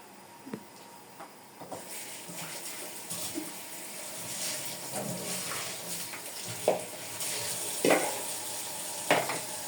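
A steady sizzle of an omelette frying in a pan, with occasional clinks and scrapes of utensils nearby and no talking.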